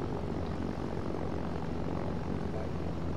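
A light airplane's propeller engine drones steadily at full throttle during the takeoff roll, a loud, unbroken roar filling the cabin with no voices over it.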